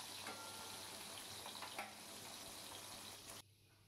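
Eggplant pieces fry in oil for a Bengali hilsa curry, giving a steady, close, dense sizzle with faint scraping that runs unbroken and then suddenly drops away near the end.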